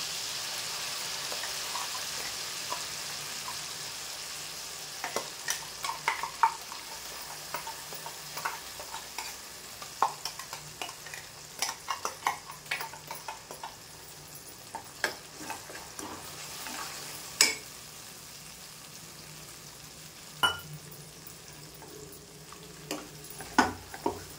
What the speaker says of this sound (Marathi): छान मंद गॅसवर बराच वेळ तेल सुटेपर्यंत परतून घ्यायचं.